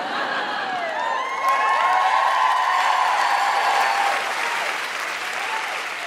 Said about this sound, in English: So, Team Guilty Feminist, please give a massive, warm round of applause to our Queen, Deborah Frances-White